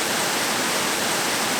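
Nant Bwrefwr waterfall in the Brecon Beacons pours with a loud, dense, steady rush of falling water close by, unbroken from start to finish.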